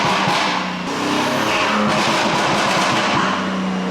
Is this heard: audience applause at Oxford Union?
no